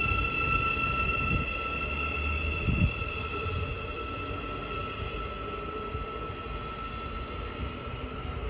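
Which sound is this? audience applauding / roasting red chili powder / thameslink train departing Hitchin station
thameslink train departing Hitchin station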